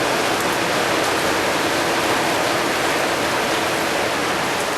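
Heavy rain pours down onto a house roof in a steady, dense hiss that stays loud and unbroken throughout, with no voices or other sounds rising above it.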